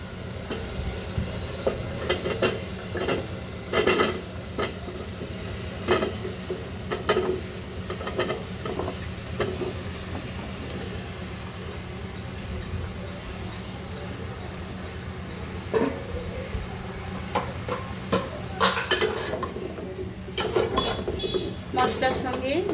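Ash gourd pieces with prawns in a spiced pan are stirred with repeated scraping and clattering spatula strokes over a continuous sizzle, close by, with a person talking intermittently.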